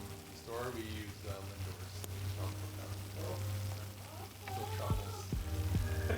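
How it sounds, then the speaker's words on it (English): Detroit-style pizzas sizzle in hot pans with a steady, close frying hiss and a few sharp crackles, while people talk over it throughout. "Listen to the pizza sizzles."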